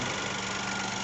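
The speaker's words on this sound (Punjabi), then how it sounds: "ਇੰਜਨ ਦੀ ਤੁਸੀਂ ਸਾਊਂਡ ਸੁਣ ਸਕਦੇ ਹੈਗੇ" A steady, low mechanical rumble of a Skoda Kylaq petrol engine idling close by, even and continuous with no voices.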